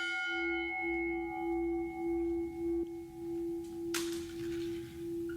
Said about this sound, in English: We will now ring the memorial bell for each one.